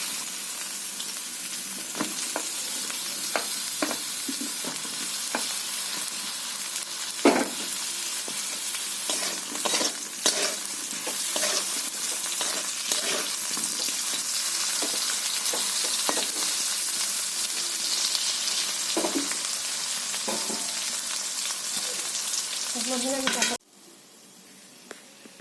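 Eggplant slices frying in hot oil in a wok give a loud, steady, close sizzle with scattered crackles and spatula taps throughout, stopping abruptly near the end.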